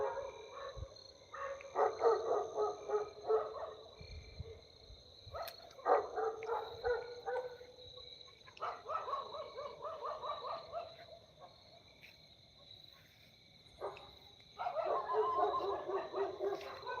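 Several dogs bark and yelp at night in a cremation ground, in repeated bursts of barking separated by quieter pauses, moderately near against a faint steady hum, with no one talking.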